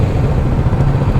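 Engine of a 2024 Kawasaki Ninja 650 motorcycle running close by, a loud, steady low rumble with a dense mechanical drone and no clear rise or fall.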